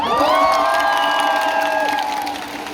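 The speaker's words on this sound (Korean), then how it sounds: "다시 한번 환영의 박수를 부탁드리겠습니다" Baseball stadium crowd at a Samsung Lions versus Lotte Giants classic-series sellout game, cheering and applauding loudly with whoops and high shouts, a steady roar that eases slightly toward the end.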